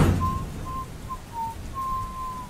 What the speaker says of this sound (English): I finna say who's whistling.